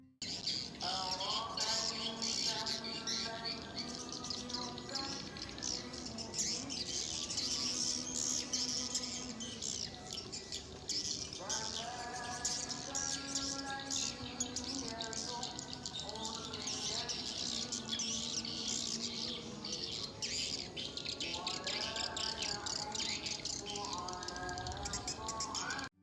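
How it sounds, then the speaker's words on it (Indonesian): Swiftlets chitter in rapid, repeated bursts of high calls while chasing each other in the late afternoon, cycling through quick sequences over a faint constant background hiss. "dua pasang burung walet yang saling berkejaran pada sore hari, mereka akan mengeluarkan nada suara tertentu"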